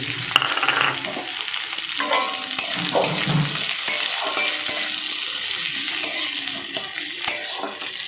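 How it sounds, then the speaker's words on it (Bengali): Sliced onion with black cumin, cumin and dried red chillies crackles loudly in hot oil, a dense continuous sizzle broken by scraping spatula strokes and light pan clinks. "কালো জিরে এক চিমটে সাদা জিরে এক চিমটে ফোড়নে দিয়ে দিলাম আর কেটে রাখা পেঁয়াজটা দিয়ে দিলাম"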